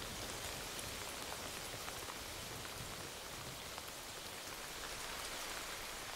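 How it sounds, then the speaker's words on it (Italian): Brief rain shower in Madagascar, a steady, dense patter of raindrops striking surfaces, even and continuous throughout with no voices. "Con la prima breve raffica di pioggia si formano delle pozze e si innesca un miracoloso cambiamento."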